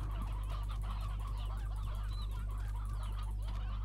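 Chickens cluck and honk in the Slime Rancher video game, a steady busy flock of overlapping calls over a constant low hum, with no talking.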